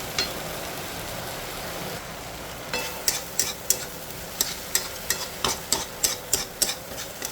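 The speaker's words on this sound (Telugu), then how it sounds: "ఈ పోపు వాసన అంతా కూరకు పెట్టే వరకు ఒక 2 మినిట్స్ వేగనివ్వాలి" Tempering spices for an Andhra cabbage dal crackle and sizzle in hot oil, with a steady frying hiss broken by repeated scraping stirs in a quick rhythm.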